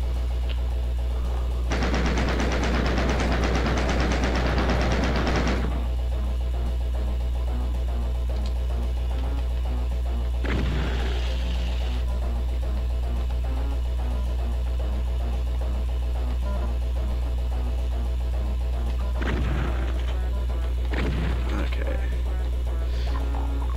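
Rapid bursts of gunfire blast at enemies in DOOM: a long, loud automatic volley up front, then shorter sharp bursts later over a steady low hum.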